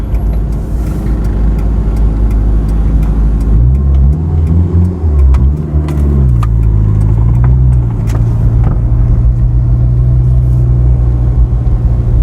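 A car drives the roads of Kingsland in Manchester, Jamaica. A steady, close engine rumble shifts pitch briefly in the middle as the car slows and picks up again, with no talking over it.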